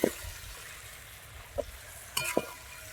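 Meat cooks in a pan over a wood-fired stove at an outdoor picnic, with a steady sizzle broken by a few scraping knocks and clinks of a utensil stirring the food up close.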